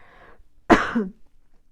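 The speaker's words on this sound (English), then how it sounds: "so forgive me for coughing." A single short, rough cough that turns into a throat clear, close by, after a brief moment of quiet.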